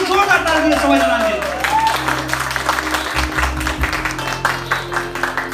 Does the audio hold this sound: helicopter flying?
no